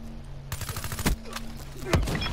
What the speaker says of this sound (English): Stop shooting at my guardian.